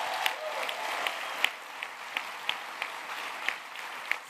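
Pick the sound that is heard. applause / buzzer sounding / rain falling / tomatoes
applause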